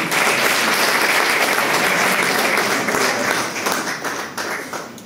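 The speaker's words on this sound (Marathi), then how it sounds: "जोरदार टाळ्या त्यांच्यासाठी" An audience at a professional development program at SRTM University, Nanded gives loud, sustained applause. Dense clapping fills the whole stretch without a break and thins slightly toward the end.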